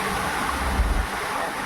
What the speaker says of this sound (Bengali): দেখো একটা গাড়ি গেলেই জলের ঢেউ আসছে